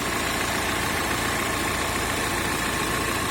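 A Volkswagen Crafter van engine idles close by, a continuous mid-pitched rumble with broadband hum and no voices, unchanging for the whole stretch.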